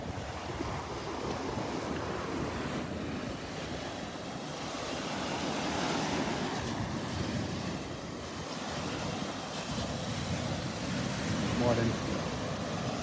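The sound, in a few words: breeze blowing on a beach with waves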